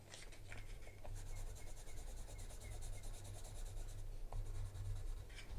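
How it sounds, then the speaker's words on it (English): A pencil shading across paper laid over a book, a quiet close-up scratchy rubbing made of quick back-and-forth strokes that continues steadily throughout, with no talking. "So I'm just going to shade the outlines that I could see."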